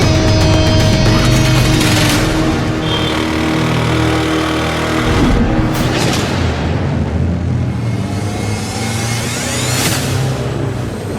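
A car engine runs loud and close, revving and pulling away with a steady mechanical drone and a few sharp bangs, with no talk over it.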